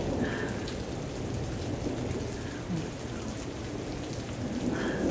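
A thunderstorm brings steady heavy rain drumming on surfaces, with low rumbles of thunder under the downpour throughout.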